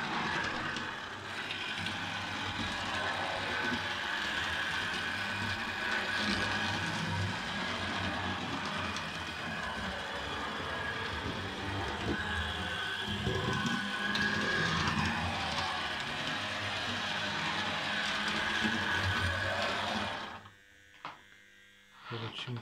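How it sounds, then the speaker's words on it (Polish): Model locomotive, such as a BR110 or V100, running on a home layout, giving a continuous mechanical whirring and ratcheting gear hum at close range that stops abruptly near the end. "Zobaczymy, która lokomotywa wyjedzie"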